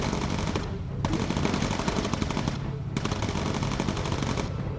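Sustained rapid machine-gun fire from bomber turrets in the video game Bomber Crew, loud and continuous in three long bursts with short breaks, no speech.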